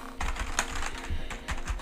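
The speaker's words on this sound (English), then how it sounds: "So this feels like a membrane keyboard." Fingers tap steadily on a membrane computer keyboard from a pre-built iBUYPOWER PC, close and soft. The dull keystrokes come in short bursts with brief pauses and no talking.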